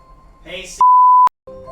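A single sustained electronic beep from a kitchen timer cuts in sharply, set among quieter kitchen sounds while pasta cooks on the stove.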